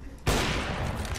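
Loud sustained gunfire erupts suddenly in CS:GO, a dense burst of shots continuing without a break after a brief quieter moment.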